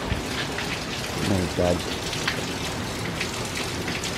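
Heavy rain pours steadily over a garden, a dense, loud hiss of drops hitting plants and surfaces throughout, with a brief voice exclaiming in the middle.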